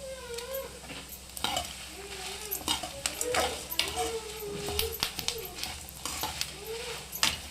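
Green chillies fry in a pan for sambar with a steady sizzle, while a spoon scrapes and stirs against the metal in repeated knocks, and a voice speaks faintly now and then underneath.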